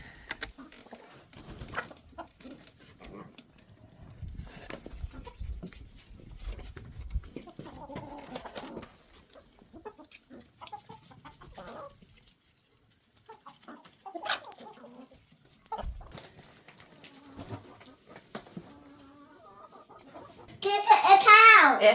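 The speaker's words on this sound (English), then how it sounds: "Got some leftovers I'm going to take out to the chickens." Farm chickens on a rural Alabama homestead break into a brief, loud burst of clucking and squawking near the end, after a long stretch of quiet, scattered movement noises.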